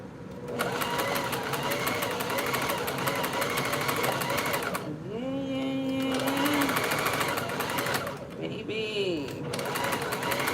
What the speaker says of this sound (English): The beautiful sounds of sewing.